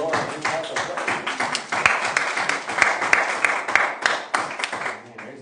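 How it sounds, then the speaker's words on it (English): A church congregation clapping steadily in praise, a dense patter of many hands applauding together that fades toward the end. "Let's give the Lord a big clap of praise."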